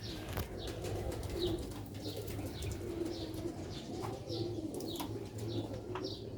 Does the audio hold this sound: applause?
no